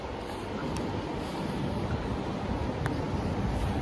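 Strong, cold wind blowing outdoors on a UAE Day outing, a continuous broadband rush buffeting the microphone with slight surges, no talking.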